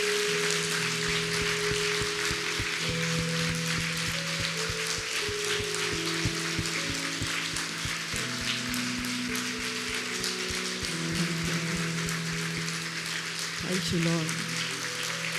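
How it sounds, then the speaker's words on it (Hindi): A church congregation at a worship service claps in steady rhythmic beats to thank God. Voices chant and sustained musical tones run over the clapping the whole time. "हम जोरदार तालियों से परमेश्वर का धन्यवाद देंगे।"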